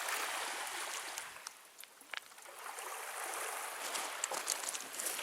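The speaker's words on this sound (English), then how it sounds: "I'm gonna grab some water from Lake Superior," Water from Lake Superior being handled outdoors on Grand Island, Michigan, a steady soft trickling and lapping wash that runs continuously at moderate distance with a few brief clicks, no voices.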